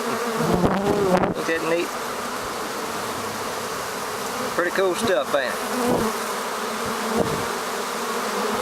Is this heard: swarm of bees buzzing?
yes